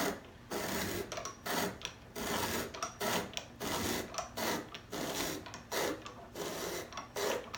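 Hand-crank apple peeler working through a pear, a repeated rasping, scraping grind that comes in regular rhythmic bursts with short pauses between turns, close and fairly loud.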